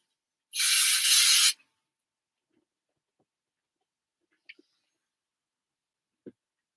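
A single loud burst of aerosol spray inside a spray box, about a second long, followed by quiet and a few faint clicks and taps.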